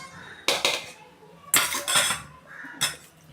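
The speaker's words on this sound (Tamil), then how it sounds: "நல்லா கலக்கி விட்டுக்கலாம்" A spoon stirs okra curry with added water in a pot, giving three separate bursts of scraping and clinking against the metal, close and fairly loud with quiet gaps between them.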